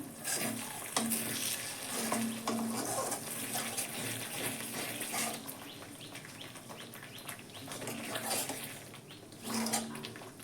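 Yogurt-based katla fish curry sizzles and bubbles in a pan as it is sautéed and stirred, a soft continuous hiss with faint scraping, fairly quiet throughout.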